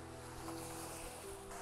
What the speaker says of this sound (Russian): А вот тут море вокруг.